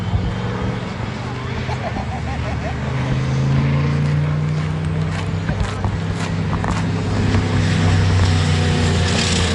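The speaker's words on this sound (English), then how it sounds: "Oh, that yellow one doesn't sound healthy. That's got a Chevy engine in it." A yellow car with a Chevy engine running roughly at a tuner car show, a loud, uneven engine drone with rising and falling revs, heard nearby alongside crowd chatter and talking voices.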